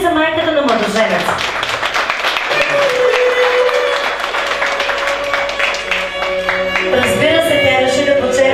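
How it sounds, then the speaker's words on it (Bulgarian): Wedding guests clap for the groom's mother at a celebration, with sustained applause from the crowd mixed with background music. "Аплодисменти за майката на младоженец."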